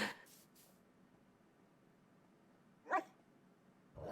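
A dog in a video game lets out a few short, faint yips and barks spaced seconds apart against a quiet background.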